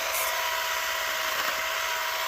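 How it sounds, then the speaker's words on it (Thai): Battery-powered saw trimming a bamboo clump outdoors, a steady high motor whine running continuously and evenly at moderate level with no voices. "เลื่อยแบตเตอรี่นะคะ ในการตกแต่งกอไผ่นะคะ"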